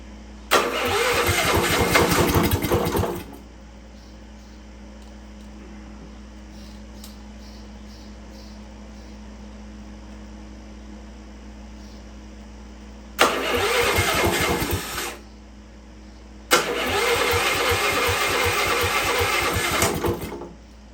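A Dingo go-kart engine on a fresh, bigger battery cranks and fires loudly up close three times, each burst of running lasting a couple of seconds before cutting out, with a low hum between attempts.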